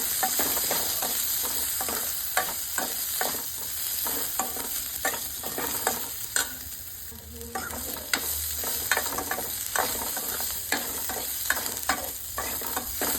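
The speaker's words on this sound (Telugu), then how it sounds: "అలాగే కొద్దిగా అల్లంని కూడా యాడ్ చేసుకొని మంచిగా వేయించుకుంటున్నాను" Garlic cloves and ginger fry in a pan, with a continuous close sizzle and repeated scraping stirs throughout.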